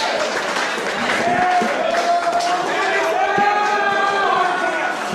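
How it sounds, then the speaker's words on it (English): A packed crowd chants in unison at an IWA East Coast deathmatch wrestling show, a loud, sustained, droning chorus with crowd noise and shouts mixed throughout. "Hear a big Mathis chant."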